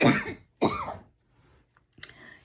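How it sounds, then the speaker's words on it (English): A woman coughs after applying too much highlighter powder, with two sharp, close coughs followed by a brief throat-clearing sound. "Put too much on and make me cough."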